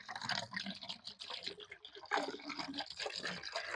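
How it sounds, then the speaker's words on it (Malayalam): Cow urine is poured into a bucket, a close, quiet splashing and trickling of liquid over a few seconds with uneven surges. "രണ്ട് ലിറ്റർ ഗോമൂത്രം ഇതിൽ ആഡ് ചെയ്യുന്നുണ്ട്"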